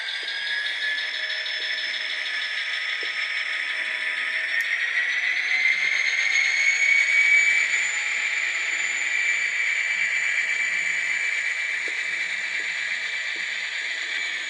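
A sound-fitted American model railway locomotive moves off, giving a steady mechanical hum with sustained high tonal whine that rises gently in pitch midway through, fairly close and alone without talk.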